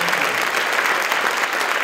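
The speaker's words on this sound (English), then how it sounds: "Could we give them a round of applause?" Audience applause at a high school choir concert, a steady, even burst of clapping from a crowd, moderately loud and unbroken throughout.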